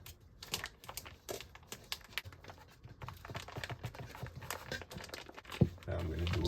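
A dull knife cuts small holes in the side of a mushroom grow bag, with close crinkly scratching and tapping of plastic, irregular and faint, along with a low voice and background noises.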